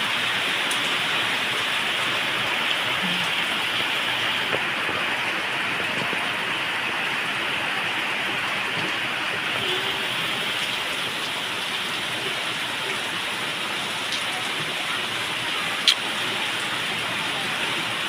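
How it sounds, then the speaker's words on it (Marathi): Heavy rain pours down steadily over a paddy field, a dense, even hiss that holds close and loud throughout with no voices. "भरपूर पाऊस आहे."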